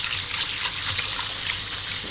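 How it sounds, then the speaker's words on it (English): Tap water runs steadily into a sink as hands are washed with soap, a constant close hiss and splash with no talk. "washing your hands thoroughly with soap and water, under running water for at least 30 seconds"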